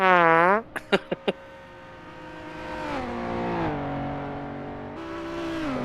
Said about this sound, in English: hearing both engines as the cars power out of the hairpin.